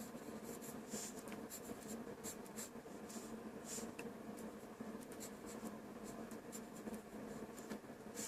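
A pencil sketches a nose on paper in quick, scratchy strokes, soft and close, with a steady run of short rubbing marks and no talk.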